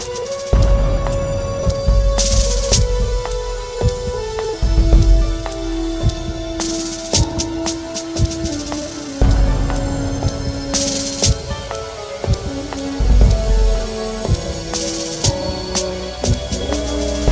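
Korg PA-600 arranger keyboard playing a horror-movie style pattern in a minor chord, with sustained eerie tones, low rumbling hits and bursts of bright noise swelling in and out, loud and continuous with no talking.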